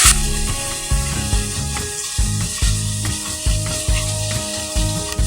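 Drumstick leaves fry in a pan under a steady hiss, while a spatula stirs and scrapes in regular rhythmic strokes roughly twice a second, close and loud.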